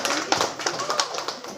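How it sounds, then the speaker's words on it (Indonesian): An audience applauds at a literacy event, a short burst of dense, fairly close clapping with voices mixed in. "Tepuk tangan dulu."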